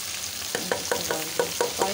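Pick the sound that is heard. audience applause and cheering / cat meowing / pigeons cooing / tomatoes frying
tomatoes frying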